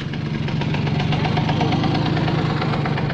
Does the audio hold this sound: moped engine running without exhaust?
yes